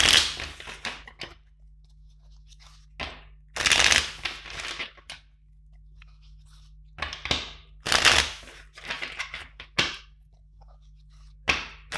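Tarot cards shuffled in quick riffling bursts, several separate rounds with short pauses between, close and crisp against a quiet background.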